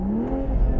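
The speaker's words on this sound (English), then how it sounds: "there's a nice exhaust note in sport mode" A BMW Z4 M40i in sport mode sends out a close, loud engine and exhaust note as it accelerates, a single rising drone that holds briefly before a lower rumble, with no talking.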